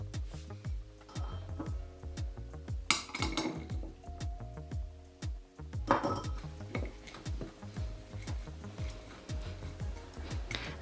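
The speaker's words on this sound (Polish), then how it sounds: "Zaczynamy rozgniatać fasolę. Chodzi o to, żeby zrobić z niej taką papkę." Beans are mashed into a paste in a bowl for a homemade veggie burger, a utensil clinking and tapping against the dish in irregular, repeated soft knocks and scrapes, close by and without talk.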